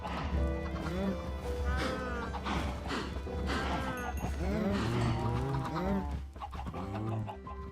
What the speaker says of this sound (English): These are called cows, by the way.